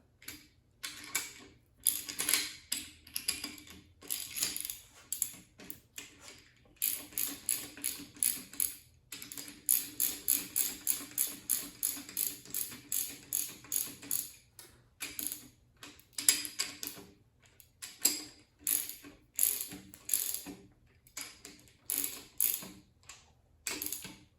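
Nuts are snugged down on rocker arm studs of a Ford FE 465ci tunnel port engine, heard as rapid bursts of close ratchet clicking separated by short pauses, with no voices.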